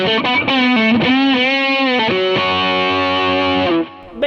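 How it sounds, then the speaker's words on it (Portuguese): High-gain electric guitar pushed by a Klon Centaur clone in Positive Grid Bias FX, thick mid-heavy distorted bends and held notes sustaining smoothly, then dropping out briefly before a final note. "quando eu quero alto ganho, eu tenho esse Clone Centaur aqui que eu uso para empurrar mais médio e ter aquele som bastante viscoso"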